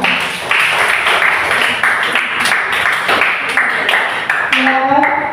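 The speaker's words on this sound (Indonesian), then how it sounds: "Berikan aplaus dulu untuk kelompok 2" A classroom group gives a round of applause for group 2, with steady clapping from a room of students that carries through the whole stretch while a voice speaks over it.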